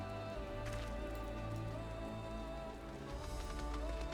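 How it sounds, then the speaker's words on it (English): Rain falls in Final Fantasy XIV, a steady patter of drops hitting surfaces under soft game music, continuous and fairly quiet with no talk. "Are you keeping me dry from the rain?"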